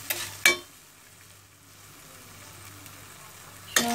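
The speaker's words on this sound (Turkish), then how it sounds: "Ve bir kaşık ile karıştırıyoruz sürekli." A spoon stirs popcorn kernels in oil in a pot, with two scraping strokes at the start and another at the end, separated by a soft, steady sizzle.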